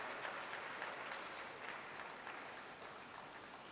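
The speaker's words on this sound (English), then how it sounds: "Please give her another round of applause." Audience applause at a 2021 graduation ceremony for a male mentorship program, a steady dense clapping that holds at an even level throughout without any talk over it.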